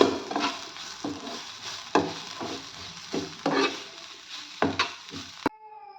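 A dry radish stuffing for parotas gets stirred and scraped in a pan, with repeated rhythmic strokes and soft sizzling throughout, ending in a sharp tap of the utensil.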